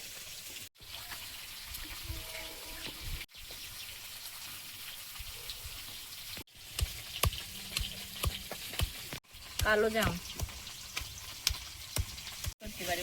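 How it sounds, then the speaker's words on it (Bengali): Fish frying in hot oil in a home kitchen, a continuous crackling sizzle broken by several sharp cuts, with stirring and brief clatter as the pieces are lifted out, and a short spoken phrase over it. "মাছগুলো ভাজা হয়েছে, তুলে নিচ্ছি।"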